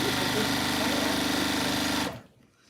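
A sewing machine stitches a quilt border on the PMQ 'Carnival' quilt with a steady, close, rapid mechanical whir that runs for about two seconds and then stops abruptly.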